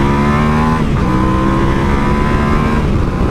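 A Yamaha Tenere 700 on-and-off-road motorcycle accelerates hard on a test track, its engine loud and close with a steady rising drone and a brief dip near the one-second mark.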